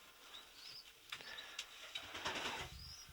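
Young pigeons, known as squeakers, let out thin, high squeaks in a few scattered bursts, faint and close over a quiet background.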